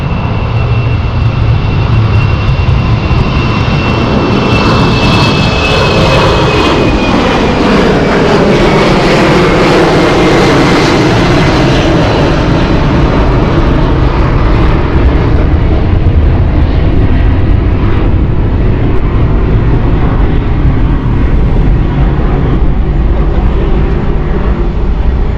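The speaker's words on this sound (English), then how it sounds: "Let's watch this City Flight outbound" A CityFlyer jet departs London City Airport with a loud, sustained engine roar that builds and sweeps past, a rising whine sliding downward mid-pass, then settles into a steady rumble as it climbs away.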